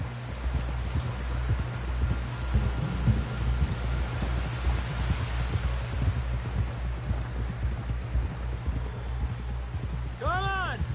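Horse hooves gallop in Red Dead Redemption 2 in a rapid, continuous clip-clop rhythm, close and prominent, while voices talk over the ride.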